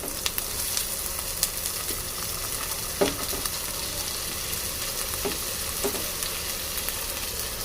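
Chopped chili and tomato for a sandwich filling fry in hot oil with a steady close sizzle, broken by occasional scraping stirs and light utensil taps, and no voices.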